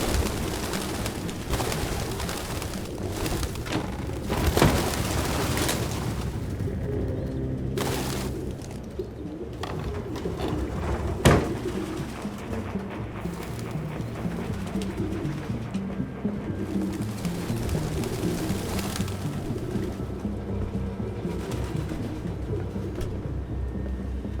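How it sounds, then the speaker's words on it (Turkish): Pigeons coo steadily throughout a game scene in Detroit: Become Human, a layered ambient bed of soft repeated calls with a couple of brief louder knocks, no talking. "Abi ne bu her yerde güvercin var."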